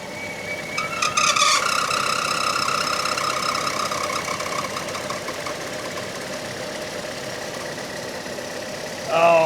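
A Chevy engine with coolant on its drive belt whines and squeals in a steady, sustained tone as the air conditioning kicks in, over the running engine, with a sharp burst of squeal near the end.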